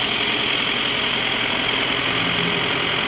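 Isuzu 3000 turbo engine fitted to a Thai farm vehicle idles steadily, a constant close rumble with no breaks and no talk over it.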